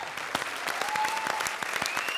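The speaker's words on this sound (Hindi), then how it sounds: "भाई जोरदार तालियों से अरबाज भाई का स्वागत करें" A studio audience claps to welcome Arbaaz Khan on a comedy show stage, a brisk, close burst of applause with sharp individual claps throughout.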